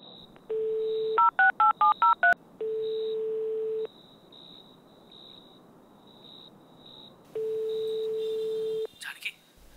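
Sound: telephone number being dialed

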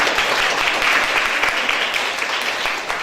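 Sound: audience applause after a project presentation

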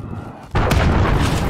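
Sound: cruise missile explosion in video game Call of Duty: Modern Warfare

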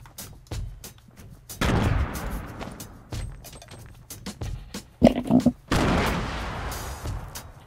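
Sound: gunfire in video game Fortnite

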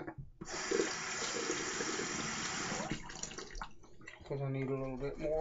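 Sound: tap water running while lathering shaving soap

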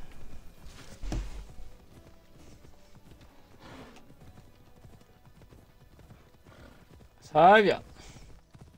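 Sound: horse hooves clip-clopping in Assassin's Creed Odyssey video game

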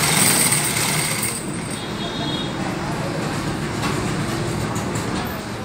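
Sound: sewing machine running slowly while stitching

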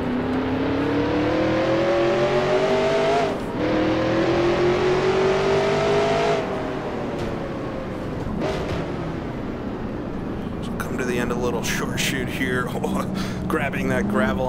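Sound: stock car racing engine in a racing video game, 1966 NASCAR

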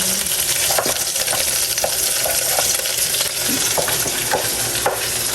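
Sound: garlic, onion and ginger sautéing in a pan

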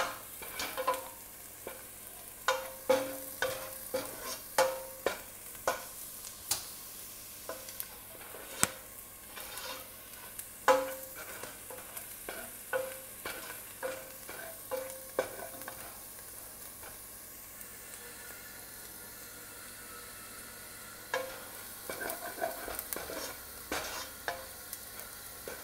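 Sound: stirring and frying food in a pan until brown

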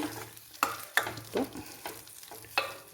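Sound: curry poured into hot tempering pan for payar erissery

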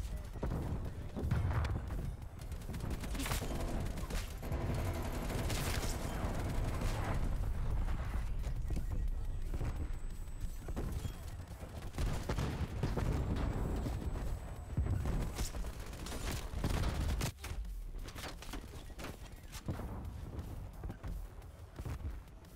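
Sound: AK47 gunfire in Call of Duty Cold War video game

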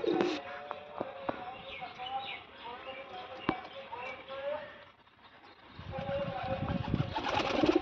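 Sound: pigeons cooing

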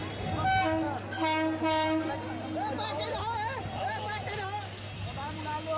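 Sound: train slowly moving forward sounding its horn

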